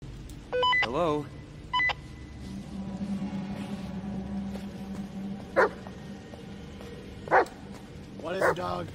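A dog barks in the Blair Witch video game, a few sharp yips at the start followed by scattered barks and whines later, set against a low ambient drone with someone talking over it.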